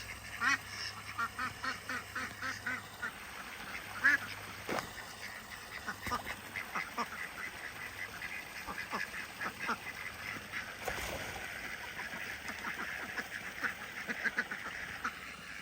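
Ducks at a backyard duck pond quack in scattered bursts, some overlapping, fairly faint and a little distant, with no talking.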